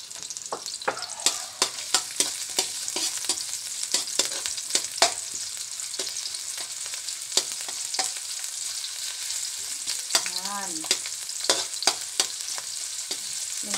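Ginger sizzles and fries in a pan, browning as it is stirred, with a steady close sizzle broken by frequent sharp scraping clicks of a utensil.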